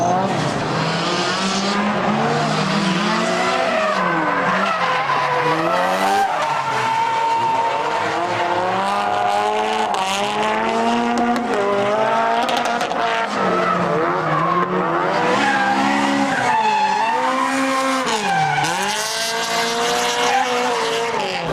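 A light rear-wheel drive tuned import car with stiff suspension drifts hard, tires skidding and squealing in long sweeping wails over a loud, continuous engine roar that rises and falls with throttle, close and unbroken throughout.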